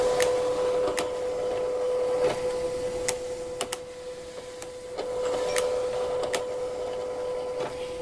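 A Silhouette cutting machine loaded with cardstock for a masculine birthday card runs its alignment pass, giving a steady motorized hum punctuated by several sharp clicks and ticks at irregular intervals, close and fairly loud with no talk.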